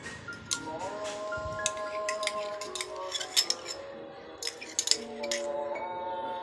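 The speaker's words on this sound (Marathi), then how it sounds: "आता हे आपण चांगल्या प्रकारे मिक्स करून घेऊया" Chicken is stirred with salt and yogurt in a bowl for a Malvani chicken sukkha, a spoon clinking and scraping against the dish in irregular taps over a soft musical background.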